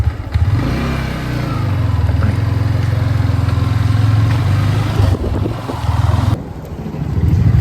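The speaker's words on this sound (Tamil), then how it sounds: "நம்ம அப்படியே பைக்கை ஸ்டார்ட் பண்ணிட்டு கிளம்பிடுவோங்க" A motorcycle engine runs close by, idling with a low rumble and revving up several times in uneven bursts.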